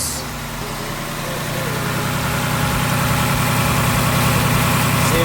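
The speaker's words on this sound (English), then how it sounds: "And yes, the engine tick is stock." A stock 2018 Ford Mustang GT engine idles steadily and close, a low even rumble carrying a quick regular ticking that swells slightly louder over a few seconds.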